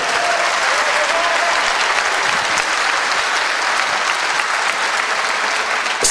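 Audience applause at a handicap awards ceremony fills the hall, dense and sustained clapping at a steady loud level from start to finish, with a faint voice under it.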